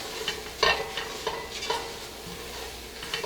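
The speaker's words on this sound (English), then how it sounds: "we'll add our shallot. Get that cooking in there together" Shallot and bacon sizzle in a pan for seafood chowder, a soft steady frying hiss broken by several stirring scrapes, close and fairly quiet with no talking.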